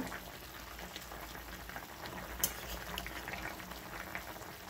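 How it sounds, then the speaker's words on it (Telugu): A pot of chicken and drumstick curry bubbles and simmers at a low, steady level, its soft crackling boil continuing throughout with one brief sharp tick partway through. "చికెన్ మునక్కాయ ఉడుకుతా ఉన్నది"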